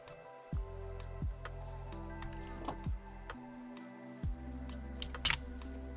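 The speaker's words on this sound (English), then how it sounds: "The rain." Steady Minecraft rain hisses softly through a modded world, joined by low tonal swells and a few scattered ticks, with no one talking.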